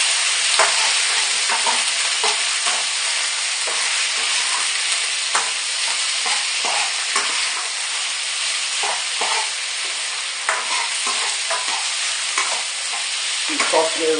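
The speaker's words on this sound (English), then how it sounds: "Keep tossing it around, make sure it all gets cooked through." Chinese chicken curry stir-fries in a pan, a loud continuous sizzle broken by repeated scraping and tossing knocks, close up and steady throughout, no voices.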